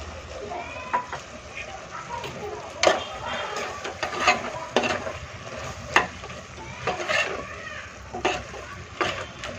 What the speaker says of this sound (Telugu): ఈ స్పైసెస్ అన్నీ బాగా ఫ్రై చేసుకోవాలి.